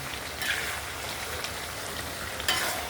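Onions and chillies frying in a pan, a steady close hiss of sizzling oil with a few brief stirring scrapes.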